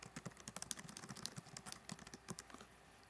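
Someone types a movie title into a search box on a computer keyboard: a quick, close, uneven run of light key clicks lasting a few seconds.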